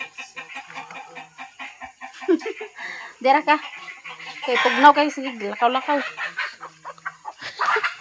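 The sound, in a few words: chickens clucking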